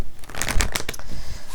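Tarot cards being shuffled for a weekly reading, a quick run of soft papery riffles and flicks over about a second and a half, close and fairly quiet, with no talking.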